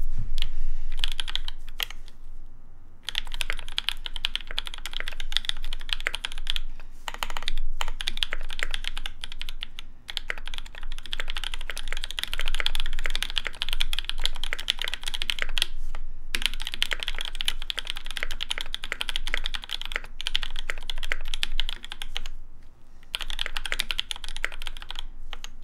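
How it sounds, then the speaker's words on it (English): Typing on an Aaru TKL mechanical keyboard by Helix Lab, with a close, steady stream of key clacks in bursts that break off briefly now and then. "let's jump in to the typing sounds."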